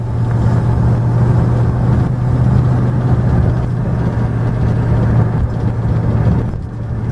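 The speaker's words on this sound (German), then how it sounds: "Motor läuft seitenweich." A 1968 Ford Mustang V8 runs steadily at close range, a loud, continuous low engine drone with an even rumble throughout, slightly easing near the end, with no talk over it.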